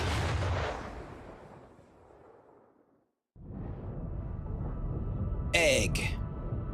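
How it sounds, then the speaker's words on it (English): A cannon launch in the video game Metroid Prime 4: a loud boom with a rushing whoosh, fading out before a brief silence, then a sustained rumbling roar with a short high hiss near the end. A voice talks over the opening. "Freaking cannon gotta launch me over there?"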